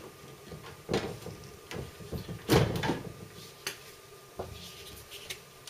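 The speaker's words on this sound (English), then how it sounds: "you can remove the side panels with thumb screws and just pull it up" The side panel of an NZXT H630 PC case being removed, a series of close knocks, clicks and thumps from the metal panel, with one louder bump near the middle.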